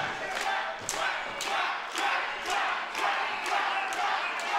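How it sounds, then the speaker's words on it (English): Wrestling crowd chanting a quacking call for the Ugly Ducklings at a Hardcore event, loud and sustained, with rhythmic bursts of yelling rising in steady repeated waves. "And the crowd is quacking."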